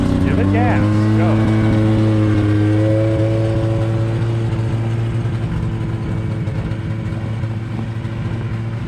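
Car started on a bitterly cold day, about 28 below, as the driver gives it gas: a loud, close engine whose pitch sweeps and settles into a strong, steady droning rev with harmonic hum throughout.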